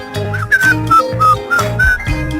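A bright whistled tune, a sequence of short sliding notes, carries over a steady rhythmic musical backing with deep bass, heard close and fairly loud throughout.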